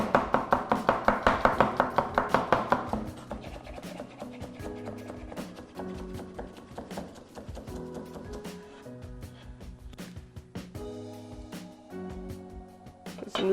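A knife chops a carrot into matchsticks on a board, with a quick run of rapid, even strokes at first, then slower, irregular cuts and taps.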